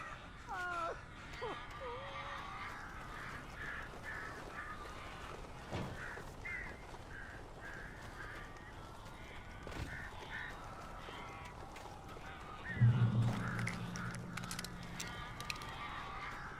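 Crows caw in scattered, rough calls inside a building in Alan Wake Remastered. The calls are faint and sit under a steady noisy game ambience, with a louder burst near the end.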